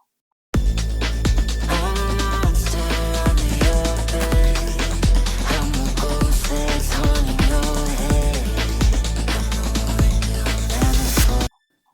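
A full music mix with sustained, airy high strings from the Surge XT synthesizer washed in lush plate-style reverb over steady drums, playing continuously for about eleven seconds.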